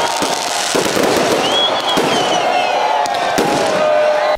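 Fireworks at an evening festival ceremony crackle and burst continuously with sharp bangs and whistling streaks over a dense, loud wash, the crowd's noise blending beneath.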